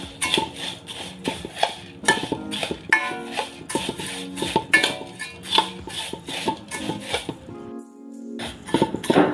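Poha being mixed with turmeric and powdered sugar in a metal vessel for namkeen chivda, a busy run of rhythmic spoon clanks and scraping against the pot, loud and close, with a short pause near the end.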